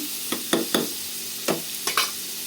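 Onion paste curry stirred and frying in a pan, heard as a few separate scraping stirs against a steady sizzle, close and fairly quiet, with no talking.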